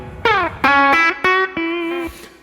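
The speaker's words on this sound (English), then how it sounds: "if you have a slight distorted tube amp, the harder you attack in this repeating phrase, the more the distortion comes" An electric guitar plays a repeating blues phrase through a slightly distorted tube amp, with four or five firmly attacked, sustained notes ringing out close and loud, gritty overtones growing with each hard pick.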